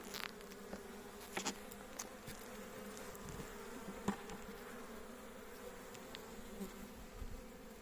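A dense, steady hum of many honeybees buzzing close by at an open hive, with individual bees zipping past now and then; no voices.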